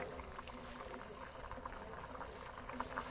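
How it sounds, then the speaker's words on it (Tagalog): Water boiling in a cooking pot, a steady close bubbling and hiss that stays even throughout, with a faint voice at times in the background. "Ayan guys, kumulo na."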